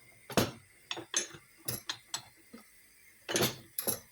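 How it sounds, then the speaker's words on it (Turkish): Several sharp metallic clanks and knocks of a pot of celery soup being handled and set onto a large stovetop burner, in irregular bursts with quiet gaps between. "Tenceremi şöyle büyük ocağa alıp"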